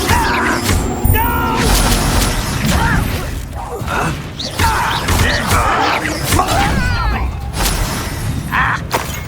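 Confringo spell cast in the video game Hogwarts Legacy, loud blasts, crashes and shattering impacts repeating amid a chaotic battle, with voices shouting over the din.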